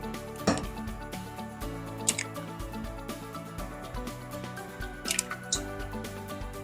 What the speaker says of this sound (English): Now crack 3 eggs into the bowl.